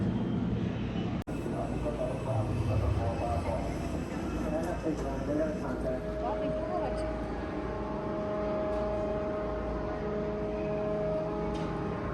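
A steady, droning engine hum of an old-model airplane fills the whole stretch, with a faint whine rising over the rumble partway through.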